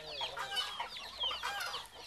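Chicks and chickens cluck and peep close by, a busy overlapping flock chattering steadily with no one talking.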